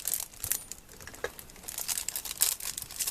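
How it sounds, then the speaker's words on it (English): Plastic packaging crinkles and rustles as it is cut open with scissors, close up with irregular crackling bursts and soft snips over a quiet background. "I just opened something with the scissors, and now I feel like I have to open these with the scissors"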